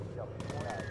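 Burst of machine gun fire from a bomber's turret in the Bomber Crew video game, a rapid rattling volley that cuts in partway through and runs to the end over game background noise and a voice.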